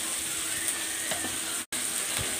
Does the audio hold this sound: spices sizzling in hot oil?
yes